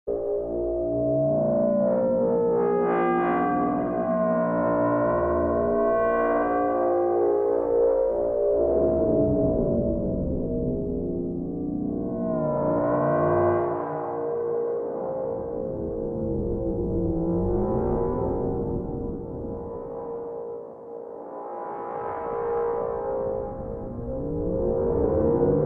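A modular synth patch runs through a pitch-shifting reverb, with its filter swept by a complex modulation voltage. Sustained, harmonically rich tones bend and swell in pitch, blurring into a continuous shimmering wash with no voices.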